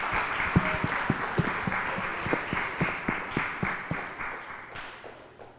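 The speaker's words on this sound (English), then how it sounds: "let's give a huge round of applause" Attendees at a company annual meet break into applause, a moderate crowd clapping with distinct loud claps sounding close by in a loose rhythm, easing off toward the end.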